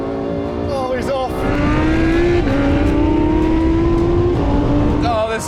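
A Lexus LFA and a Lamborghini Huracan STO accelerate hard in a drag race, with a loud, rising engine note climbing through gear changes. Excited talk runs over the engines.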